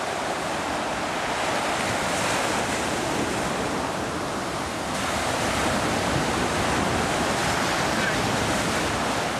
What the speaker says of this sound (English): Wash it out with the waves.